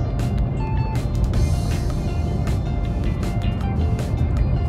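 A DS3 Crossback electric car with 136 horsepower and 260 newton-metres accelerates smoothly onto a highway. A steady, even rush of road and wind noise is heard from inside the cabin.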